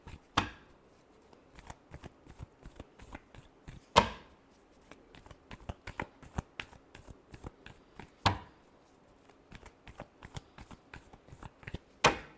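Tarot cards being shuffled, with a run of crisp papery snaps and flicks, and sharper riffle bursts roughly every four seconds, close by with no talking.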